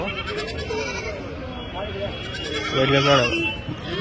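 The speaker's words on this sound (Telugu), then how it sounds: "మేకలు బాగుంది" Female goats bleat amid nearby talking at the Kadiri goat market, with one louder, wavering bleat rising toward the end.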